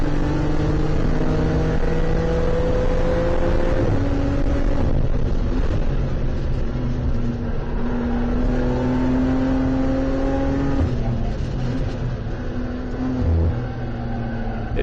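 A race car laps Barber circuit during a WRL endurance race while running below speed, its engine a steady droning hum with shifting tones that rise and fall over about fifteen seconds, loud and continuous with no voices.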